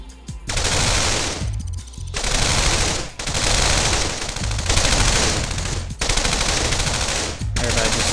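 Units trade fire in the real-time strategy game Command & Conquer: Red Alert, with loud bursts of rapid machine-gun fire in several long volleys separated by short gaps.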